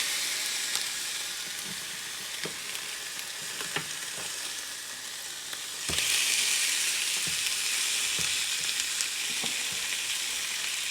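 Salmon fillets pan-seared in a skillet sizzle steadily, with a sharp burst of louder frying around the flip midway and occasional soft clicks of a utensil against the pan.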